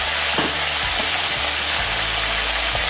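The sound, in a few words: washed yardlong beans added to hot oil, sizzling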